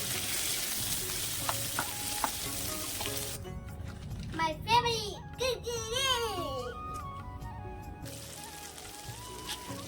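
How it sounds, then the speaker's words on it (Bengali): Loud, crackling sizzle of whole cumin, bay leaves and dried red chillies hitting hot oil, continuous throughout, briefly accompanied by a child crying in the background midway. "ফোড়নে দিয়ে দিলাম গোটা জিরে তেজপাতা আর শুকনো লঙ্কা"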